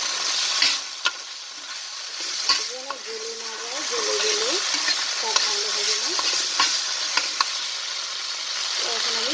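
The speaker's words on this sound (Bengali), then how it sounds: "মশলাটা আমি ভেজে নিলাম" Spice paste frying in a little leftover oil used for frying fish, with a steady close sizzle and scattered stirring scrapes and clinks throughout.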